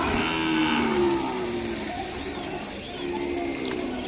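Young calves moo at an Ongole cattle market in Kodada, drawn-out lowing calls rising over a steady crowd murmur, with people talking nearby throughout.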